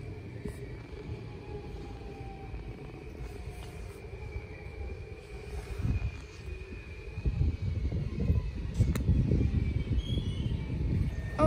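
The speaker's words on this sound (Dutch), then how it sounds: "Oh, de trein gaat nu pas weg." A train pulls away from a station platform in Schagen, a steady rumbling roll of carriages and wheels that swells louder toward the end, with faint squeal and wind noise and no talk.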